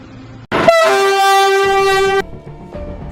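A passing train sounds a loud sustained horn blast lasting under two seconds, with rumbling rail noise before and after.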